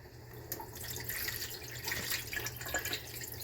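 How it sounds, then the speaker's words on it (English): Excess water drains from a pot of rice being cooked for khichri, a faint, steady trickle and splash with no talking. "I'm going to drain some of the excess water from this here."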